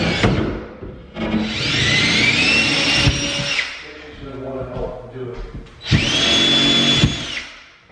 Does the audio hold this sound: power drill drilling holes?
yes